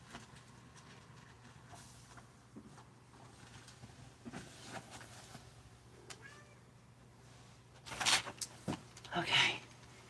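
A house cat meows twice near the end, fairly close and brief, after a stretch of quiet room noise with faint handling sounds, a low steady hum and a soft voice in the background.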